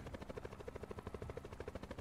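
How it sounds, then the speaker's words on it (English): Helicopter in a video game, its rotor thumping in a fast, even pulse, loud and close, with no talk over it. "Wait, yeah, we, we just got in the helicopter?"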